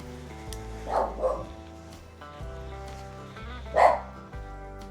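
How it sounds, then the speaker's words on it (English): A neighbour's dog barks a few times from a distance, with two quick barks close together followed by a single louder bark, over a low, steady background hum in a garden. "Does anybody else have a neighbour whose dog doesn't stop barking?"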